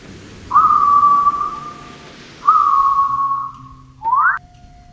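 Isobue, the whistling breath of Japanese ama sea divers: three clear, loud whistles, the first two long and steady, the last short and rising, alone against quiet background.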